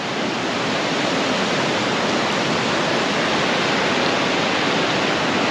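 Fast, swollen river water rushes past an island near the ruins of a Civil War factory, a loud, constant roaring hiss that fills the whole scene without any talking.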